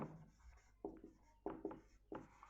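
A pen writes on paper in short, scratchy strokes that come in a loose rhythm of quick bursts, quiet and close, with no talking.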